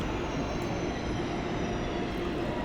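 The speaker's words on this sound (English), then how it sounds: "This will be a German intercity express train, or ICE for short." A German Intercity Express (ICE) train rumbles through a station, a steady, loud roar of wheels and motors with a faint high whine above it, holding even throughout with no one talking.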